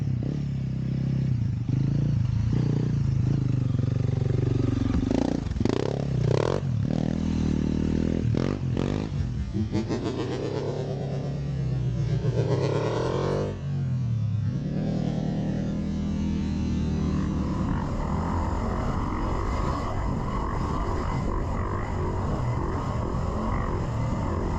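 A Honda CRF300L dual-sport motorcycle ridden off-road over whoops by a heavy, fully geared rider, its engine note rising and falling continuously, with clattering and scraping from the rough terrain and loud wind rush close to the microphone.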